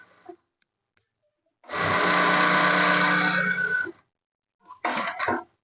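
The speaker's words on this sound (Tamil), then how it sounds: "அப்படியே நான் ஸ்டிச்சிங் பண்ணுறேன் பாருங்கள்" Sewing machine stitching a churidar, a loud close motor whir running steadily for about two seconds, then a shorter burst after a pause, with quiet gaps between.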